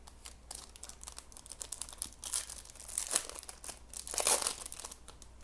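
Foil trading card packs of Prizm NBA, Ginter and Topps cards being torn open and handled, a steady stream of close crinkling and crackling with louder rips building toward the end.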